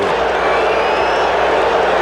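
A standing-room-only stadium crowd in Cincinnati on its feet cheering Pete Rose's record-breaking hit, a dense continuous roar of voices at full loudness with no let-up.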